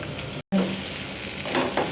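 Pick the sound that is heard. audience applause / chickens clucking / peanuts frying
peanuts frying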